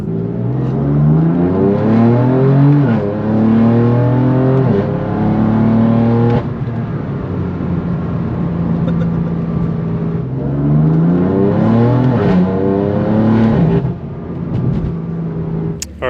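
A car with a BMW S55 engine and an AA single midpipe exhaust revs loud and close, its pitch climbing and falling repeatedly through several full sweeps with no talk.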